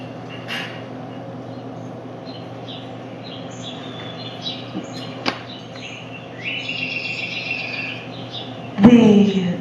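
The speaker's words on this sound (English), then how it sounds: "I'm going to give you bird noises anyway for this first piece." Recorded birdsong played as background behind a poetry reading about Gentoo penguins: faint chirps and trills over a steady low hum, with a louder bright call near the end.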